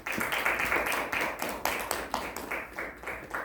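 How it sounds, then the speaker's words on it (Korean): A small congregation claps for a performer after a hymn at a church service, a brief spell of loose, uneven handclaps at moderate volume, fading in waves. "우리 신동님 박수 한번 보내주십시오."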